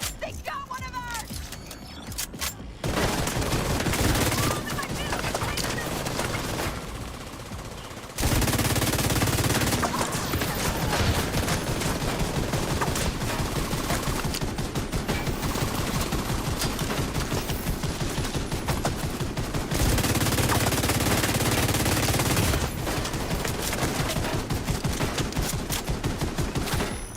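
Sustained bursts of automatic gunfire and scattered shots ring out loudly in a Battle for Brooklyn DLC video game firefight, with brief pauses between long dense volleys and faint voices underneath.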